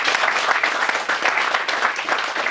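Audience at a hypnotist stage show applauding, a dense, even round of clapping that fills the whole short stretch without a break.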